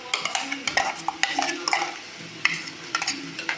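A metal spoon scrapes and clatters against a pot as ground paste is stirred into cooked mango curry, giving quick, uneven knocks and scrapes close up over a faint simmer, with no speech.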